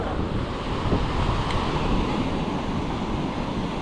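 Steady, broad wash of surf rolling onto a hidden beach in Kochi with fishing boats, mixed with constant wind rumble, no voices.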